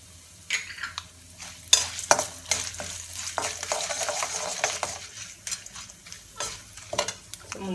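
Broken cashew nuts fry in hot oil with asafoetida for lemon rice, a continuous close sizzle broken by frequent metallic stirring clinks and scrapes of a spoon against the pan.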